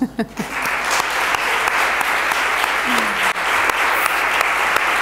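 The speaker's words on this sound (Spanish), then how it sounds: "quiero que le demos un aplauso muy, muy fuerte y Silvia, te quiero" Audience applause at a book talk in a filled hall, sustained and dense clapping throughout, with a few voices mixed into the crowd.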